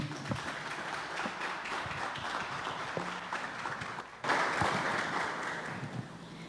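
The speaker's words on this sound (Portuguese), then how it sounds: "Palmas para Jesus" Church congregation at an evangelical service applauds for Jesus after a prayer, a dense, continuous clatter of many hands that swells louder partway through, with a few faint voices mixed in.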